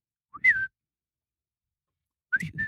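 Two short high-pitched whistles a couple of seconds apart, each rising then holding briefly, made by a person imitating a call, with breathy noise underneath.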